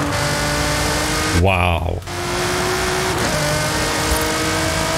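A Nissan GT-R R35 Nismo with a V6 engine in Forza Horizon 5 holds a loud, steady engine drone throughout, its pitch shifting slightly, while a man briefly exclaims over it.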